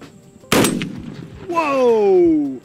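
A single loud gunshot from a Firebird gun fired over the head outdoors, a sharp crack followed by a rising whistling tone from the projectile or echo lasting about a second.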